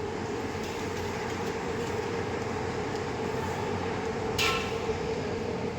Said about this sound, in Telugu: ఓ ఎంఎంటీఎస్ ట్రైన్ పోతున్నది, అక్కడ పోతున్నది ట్రైన్ పోతుంది